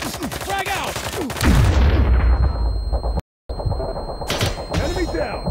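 Grenade explosion and gunfire in the mobile shooter Outfire during a team deathmatch: a loud low boom with rumbling tail, metallic clangs and bursts of shots continuing after a brief silent gap.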